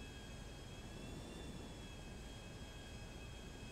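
A Hydra jet plane flying in a GTA video game, a steady loud jet roar with a constant high whine, alone with no talk.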